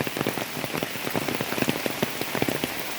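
Heavy rain from Typhoon Dante pounds a nearby surface in a dense, steady patter of close raindrops, with no voices.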